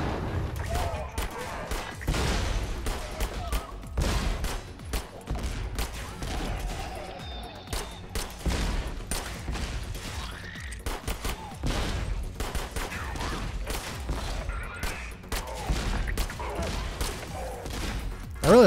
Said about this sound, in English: I really like this pistol. It's a very fun concept. Where it shoots like rounds that can explode